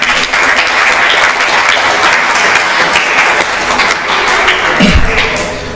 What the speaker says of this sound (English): Please give the big applause to Wika.